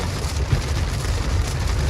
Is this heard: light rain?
yes